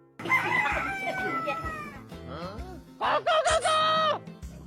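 A person imitates a rooster, crowing cock-a-doodle-doo in a loud, close voice, two drawn-out calls with a short warbling break between them.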